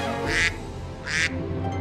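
A duck quacks twice in a Theme Park Tycoon 2 time-travel ride scene set at the brink of an ice age, two clear evenly spaced quacks over a steady droning game background.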